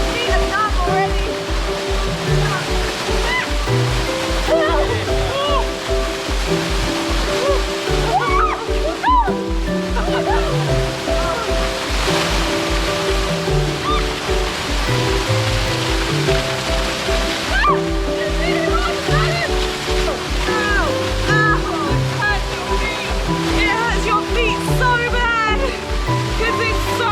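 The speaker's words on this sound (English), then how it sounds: "the waterfall is beautiful" A waterfall on a hike near Jardín, Colombia, roars with a steady, loud rush that fills the whole stretch, while voices and music-like tones sit on top of it.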